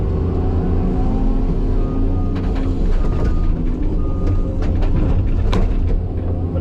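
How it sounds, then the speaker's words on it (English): Tracked skid steer packing down a dirt slope so it becomes drivable, a loud, steady diesel engine drone with rumbling track noise and clanks close by, running throughout. "pack down a slope almost so it's drivable with our track skid steer"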